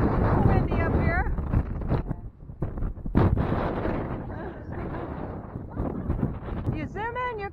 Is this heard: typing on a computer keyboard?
no